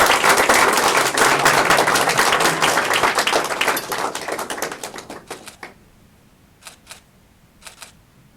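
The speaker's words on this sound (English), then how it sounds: "Give him a round of applause." Applause breaks out at a police swearing-in ceremony, a loud burst of many hands that thins out and fades after about five seconds, leaving a few scattered final claps.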